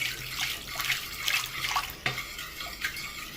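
Lukewarm water pours into flour for Ethiopian ambasha bread, a close, steady splashing trickle with small bursts as the stream shifts; no voices.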